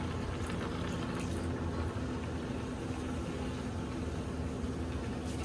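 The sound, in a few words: chicken broth soup poured slowly over rice for jambalaya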